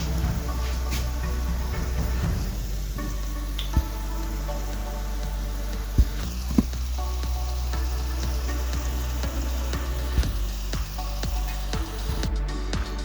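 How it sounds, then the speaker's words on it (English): Jamaican fried dumplings frying in a pan of shallow oil, a soft steady sizzle with scattered sharp pops and crackles, up close and without talk. "there goes the fried dumpling"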